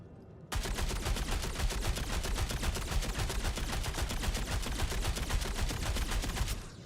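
Rapid automatic gunfire in the Star Citizen video game, aimed at a locked door to shoot it open, a dense continuous burst of shots lasting about six seconds with no talk over it.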